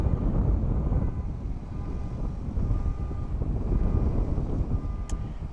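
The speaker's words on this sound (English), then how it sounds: "So this wind is just getting too much for me." Steady outdoor wind buffeting a microphone near a rocket test site, a constant low rumbling roar with no break and no talking.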